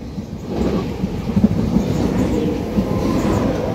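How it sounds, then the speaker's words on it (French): A French TGV high-speed train arrives in a loud, steady, low rumble with a few soft rhythmic clacks, heard close and continuous with no talk. "avec un TGV qui arrive"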